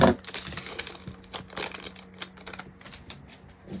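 Small hard plastic diamond-painting drills clatter and tinkle in quick, irregular bursts as they are poured and spill into a jar close by.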